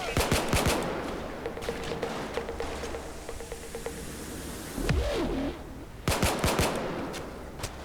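Bursts of automatic gunfire from a Payday 2 heist at a diamond store, rapid clusters of shots at the start and end with quieter sustained firing between, fairly close and loud.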